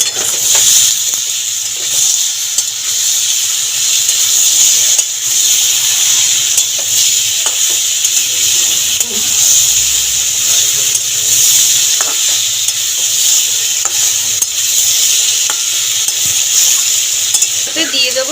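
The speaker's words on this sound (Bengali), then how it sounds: "টমেটো কাটা দিয়ে ভালো করে ফের কষিয়ে নেব" Pumpkin curry with tomatoes and green chillies sizzles loudly and steadily in a hot pan as it is stir-fried, with occasional spoon scrapes and someone speaking briefly over the frying.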